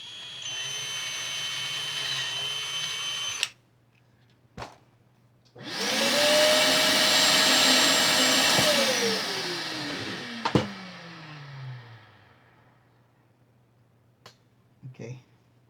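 A power drill running in bursts, boring with a drill bit while building a Leo Jaymz Hurricane #2 guitar: a short whine, a pause, then a longer loud run that winds down, with clicks and handling noise between.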